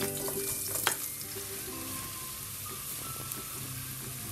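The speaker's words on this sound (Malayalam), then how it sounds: "ഈ എണ്ണ ചൂടായി വരുന്ന സമയത്ത് അതിലോട്ട് സവാള ഇട്ട് കൊടുക്കുക." Long-sliced onions frying in hot oil for Malabar chicken biryani, a close, continuous crackling sizzle with a few stirring knocks, no talking.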